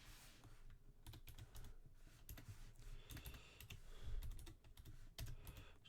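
Steady typing on a computer keyboard, rapid irregular key clicks close to the microphone with brief pauses, quiet and without talk.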